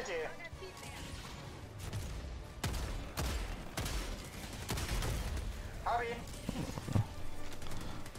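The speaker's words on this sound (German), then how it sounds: "mein Geschütz tut da hinten auf dem Posten ballern" An automated turret in the video game Helldivers 2 fires in sharp bursts at a distant post, repeated cracks and blasts spread through the clip amid game noise, with people talking over it.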